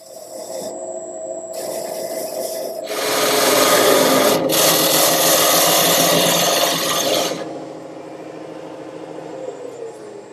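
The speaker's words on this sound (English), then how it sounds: "turn the lathe on very slowly, and make the line all the way around" A wooden nightstand part spins slowly on a wood lathe while a line is marked around it. A steady rubbing scrape swells loudly for a few seconds over the motor hum, then drops back to quieter running.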